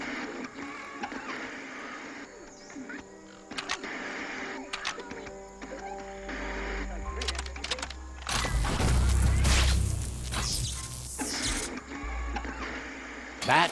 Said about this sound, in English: you need to loosen the bolts without rattling the mechamajut